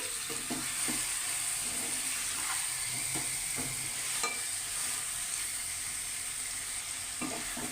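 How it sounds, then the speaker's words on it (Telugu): Fish curry paste stirred gently over sea fish in a hot pan, a steady sizzle and frying hiss with soft spoon scrapes recurring every second or so, close and continuous with no talk. "సో మెల్లిగా ఆ పేస్ట్ అనేది చేపల మీదకి వచ్చినట్టు లైట్గా కలుపుకోవాలి, స్లోగా కలుపుకోవాలి."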